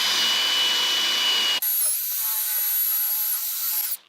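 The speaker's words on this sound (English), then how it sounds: "try to drill some of this out" A power drill boring into wood whines loudly and steadily, its pitch shifting once as it bites in, then cuts off.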